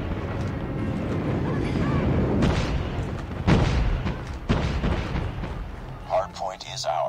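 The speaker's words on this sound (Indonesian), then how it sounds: "Enemy airstrike incoming." Airstrike explosions in a Call of Duty Mobile hardpoint match, with rumbling booms and scattered gunshots rolling through several seconds, a sharp blast near the middle, and a game announcer voice speaking at the end.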